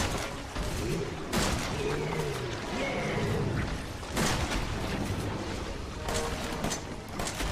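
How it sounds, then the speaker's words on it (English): Shotgun blasts in Resident Evil 7, a few heavy booming shots spaced several seconds apart over a low ambient drone, with faint voices murmuring in the background. "why are you using the weak shotgun?"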